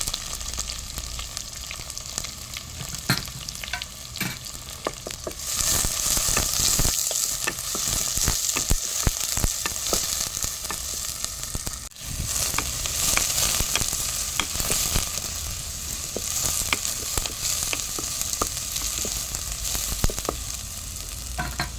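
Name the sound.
onion and curry leaves frying in a pan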